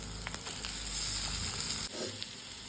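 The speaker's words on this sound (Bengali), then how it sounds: "ডিম দুটো দিয়ে দেবো।" Two eggs go into a hot pan and sizzle quietly, a steady hiss with a few light scrapes that briefly drops away near the end.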